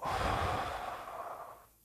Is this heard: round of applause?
no